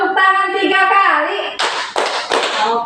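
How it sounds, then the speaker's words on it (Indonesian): Children's voices chant in a classroom, then three sharp bursts of hand clapping follow in even rhythm, loud and close, the group clapping together three times on cue. "Tepuk tangan 3 kali."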